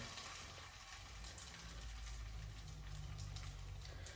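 Quinoa and cheese burger patties frying in a pan give off a steady, faint sizzle and crackle with no talk.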